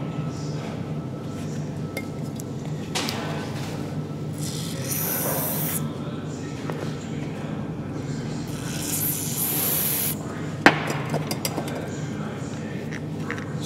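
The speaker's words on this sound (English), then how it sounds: "a bit of spray grease there" Short hissing bursts of an aerosol spray sound twice, mixed with light metallic clinks and rubbing handling noises close by.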